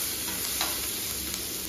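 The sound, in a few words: curry leaves sizzling in hot oil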